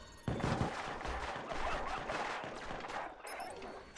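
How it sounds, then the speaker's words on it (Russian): Heavy gunfire from a powerful gun in the video game Watch Dogs, a dense burst of loud rapid shots and crashing impacts filling several seconds, with faint voices underneath. "Мощная пушка у него."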